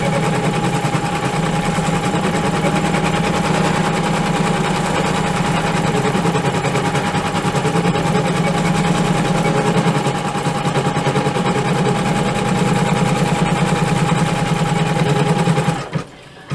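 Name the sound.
embroidery machine stitching out in-the-hoop outline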